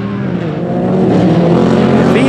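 A Can-Am side-by-side engine rips hard during a SXS race, a loud continuous motor roar that stays steady and close, building slightly in intensity toward the end, with no talk over it.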